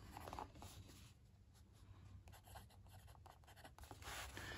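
A TWSBI Diamond Mini fountain pen with a freshly filled, fairly wet nib is writing on paper, giving faint, close scratchy strokes and soft rubbing in short bursts, heard alone.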